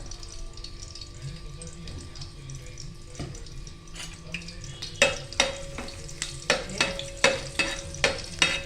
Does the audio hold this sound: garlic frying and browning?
yes